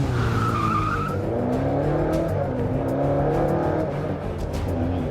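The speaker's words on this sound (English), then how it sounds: "I feather the throttle out of each bend, trying desperately to keep the back end from spinning out" Classic race car at the Crystal Palace sprint, its engine loud and close as it accelerates hard out of bends, with pitch rising and falling and a hint of tyre scrub, continuous throughout with no talking.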